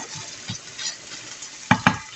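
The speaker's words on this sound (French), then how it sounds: "on vient bien faire dorer les lardons" Lardons and ham frying in a pan, a soft sizzle under scraping stirs, with two sharp utensil knocks against the pan near the end, close by and without speech.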